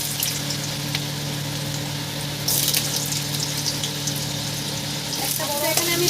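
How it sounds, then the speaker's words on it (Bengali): Small-cut potatoes frying in hot oil in a kadai, a constant close sizzle over a low steady hum, growing brighter and louder partway through. "একটা বড় এখানে আমি ভাজতে দিয়ে দিয়েছি, ছোটো ছোটো করে কেটে নিয়েছি, নিয়ে ভাজতে দিয়ে দিয়েছি আলুটা"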